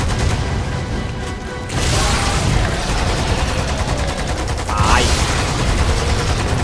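Loud, continuous gunfire from the video game Lost Planet 2, with rapid bursts of automatic weapons and heavy booming shots filling the whole stretch with almost no letup.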